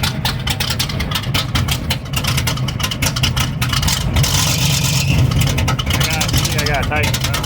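Engine with a new Comp Cams 270H camshaft and air-gap intake revs steadily and loudly up close, a continuous rough low rumble under people talking throughout.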